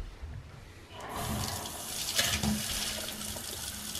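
A tap inside a bus hooked up to shore water is opened and runs, a steady hiss of flowing water filling the space after a brief quiet start, close and fairly loud.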